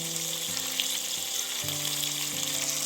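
A fresh tuna steak fries in a pan over fairly high heat with a steady, close crackling sizzle throughout, while soft tonal background music plays underneath.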